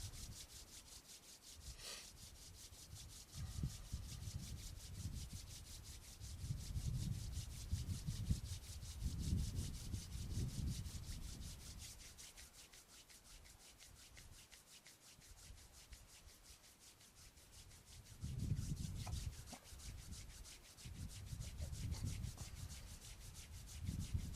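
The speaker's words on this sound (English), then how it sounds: "Straighten up and rub your hands." Hands rubbing together during a morning exercise routine: soft, steady dry friction swishing in repeated bursts, fairly close and quiet, with no talking.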